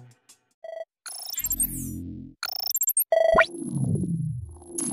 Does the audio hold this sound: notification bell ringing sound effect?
yes